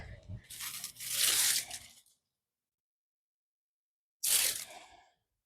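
Crisp crunching and tearing as a cucumber is cut from the plant in a garden, two separate close bursts with a silent gap between them.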